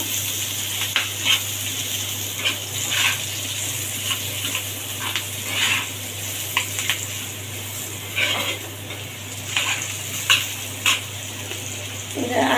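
Food with salt and turmeric powder is stirred in a pan over a soft continuous sizzle, with intermittent spoon scrapes and clinks against the pan and a low steady hum underneath.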